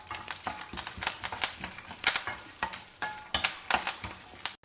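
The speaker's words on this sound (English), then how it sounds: "Stir fry everything till the peanuts are well roasted." Peanuts and fresh curry leaves being stir fried in a pan, a close crackling sizzle broken by repeated scraping strokes of the spatula in an uneven rhythm, with no voices.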